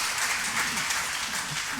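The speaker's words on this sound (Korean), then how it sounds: "우리 선생님들을 향해서 우리 격려의 박수 한번 하겠습니다" A church congregation applauds its teachers during a Sunday afternoon worship service, giving a steady, dense wash of clapping from many hands that holds evenly without a break.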